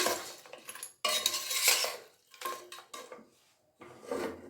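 A spoon scrapes and clinks around a pot as mutton head is stirred with turmeric powder and salt, coming in several short bursts separated by pauses.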